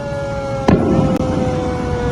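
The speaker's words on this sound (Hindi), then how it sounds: "पठानकोट एयरबेस, जम्मू के पास धमाके की आवाज" Near the Pathankot airbase in Jammu, a single sharp blast thumps out over a steady wailing siren, followed moments later by a second, fainter crack, both heard from a distance through an open window.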